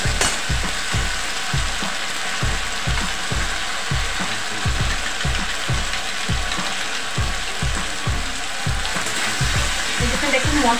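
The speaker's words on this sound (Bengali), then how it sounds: "দেখুন মশলায় আমার তেল ছাড়তে শুরু করে দিয়েছে" Spice paste frying in oil for a vegetarian potol dish, a constant sizzle overlaid by a regular rhythmic scraping or clicking about twice per second, close and fairly loud throughout, no speech.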